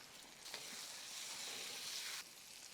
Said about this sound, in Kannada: ಇದು ಲೈಟಾಗಿ ಫ್ರೈ ಆಯ್ತಾ ಇರಲಿ.